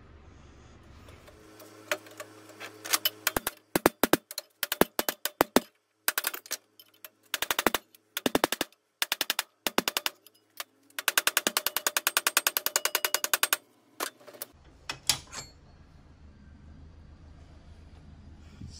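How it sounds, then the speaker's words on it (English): Welding the cut joints of a tubular roll bar for a roadster build: sharp crackling, buzzing bursts in an irregular string of short and longer runs, close and loud, with a low hum between them. "I need to weld my cuts"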